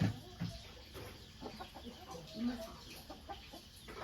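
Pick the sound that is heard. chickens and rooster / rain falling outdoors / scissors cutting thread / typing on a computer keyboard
chickens and rooster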